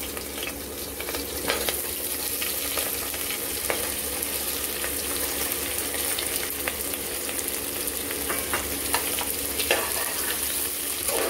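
Onions sizzle and crackle steadily in a hot pan with green chillies, a constant frying hiss with occasional stirring scrapes, close up and without speech.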